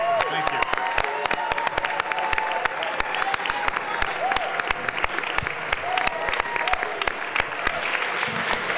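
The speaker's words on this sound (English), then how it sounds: "Give them a big round of applause." Crowd applause in the Colorado House of Representatives chamber welcoming the National Federation of the Blind, dense sustained clapping from many hands, loud and steady for the whole stretch.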